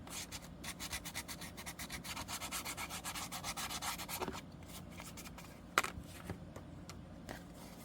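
Regular emery board scraped over paper to distress a junk journal page, brisk close rasping strokes that ease off midway into lighter scratches and a few small taps.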